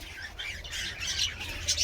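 Many birds sitting on eggs in straw nests, giving close, fairly loud squawks and chirps with a rustle of wings over a short stretch, no voices.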